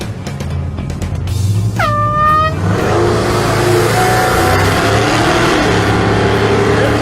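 Muscle trucks launching in a Father's Day drag race showdown, loud engines droning, then an air horn blasts briefly before the trucks roar away, engine pitch climbing steadily as they accelerate.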